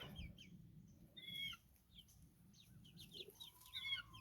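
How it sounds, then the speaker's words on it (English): Chicks peep and chickens cluck and fuss beneath a coop outdoors, soft and somewhat distant, with scattered high chirps and short calls over a low background. "the chicks are fine. See, they're all right there under the coop"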